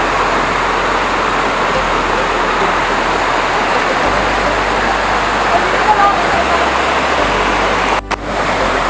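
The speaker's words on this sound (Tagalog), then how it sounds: "Ito yung isang falls." Usboy Falls in San Jose del Monte, Bulacan, gives a steady, close, broadband roar of falling water that stays constant throughout, with a brief knock near the end.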